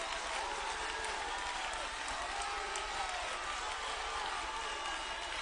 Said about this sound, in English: somebody with a loud mouth start clapping right now